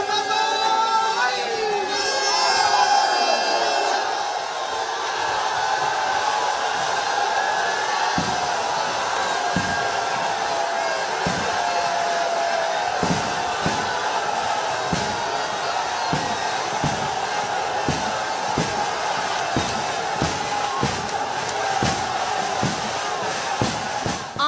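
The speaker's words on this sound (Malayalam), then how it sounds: "ആർപ്പുവിളിയുടെ ആരവവും വഞ്ചിപ്പാട്ടിന്റെ ഈണവും വാദ്യമേളങ്ങളുടെ താളവും അകമ്പടിയായി നിന്ന് നിരണം ചുണ്ടൻ നീറ്റിലിറങ്ങി" Crowd cheering and shouting as the Niranam Chundan snake boat is launched into the water, a dense festive roar at the start, then sustained calls with rhythmic percussive beats from about eight seconds on.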